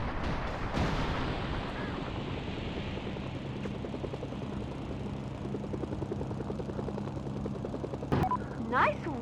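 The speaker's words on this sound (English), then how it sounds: "I'm taking enemy fire." Enemy gunfire in the action video game Mercenaries 2, a dense rattling barrage under a steady rotor-like drone, with a couple of sharp louder bangs near the end.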